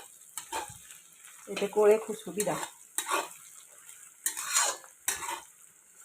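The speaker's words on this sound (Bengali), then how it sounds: "এই দেখো পেঁয়াজ ভাজছি" Onions fry with garam masala, dried red chilli and cumin in a large kadai, giving a soft sizzle broken by spoon scrapes and stirring, while a person talks over the cooking.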